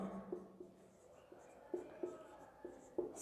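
A pen writes notes on paper during a physics lesson on capacitance, giving faint, close scratching strokes with small taps at irregular intervals, quiet and without talk.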